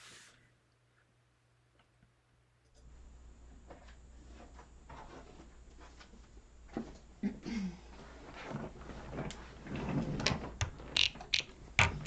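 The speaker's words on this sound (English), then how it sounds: "we're going to sew along the whole exterior of that rectangle" A sewing machine stitches around the outside of a wallet rectangle after a quiet start, its low motor hum joined by irregular clicking and thumping bursts of the needle mechanism that grow busier toward the end.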